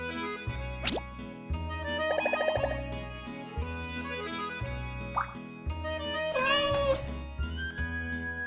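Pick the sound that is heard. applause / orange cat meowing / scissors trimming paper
orange cat meowing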